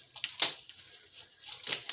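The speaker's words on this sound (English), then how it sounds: "so we're going to open this up with scissors" Scissors cutting open plastic packaging on a turkey beside a kitchen sink, two quiet crisp snips about a second apart.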